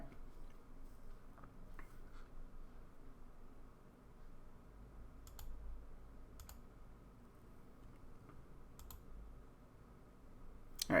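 Sparse, quiet clicks of a computer mouse over faint room hiss, a handful of isolated taps spread out with pauses between them and no voices.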